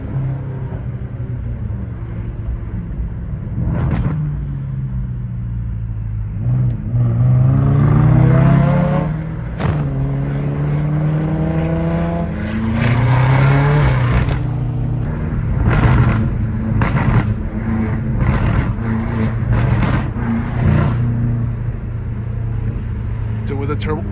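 A straight-piped BMW M5 Competition in California drones with a loud, continuous exhaust rumble, rising and falling with repeated revs and throttle swells throughout.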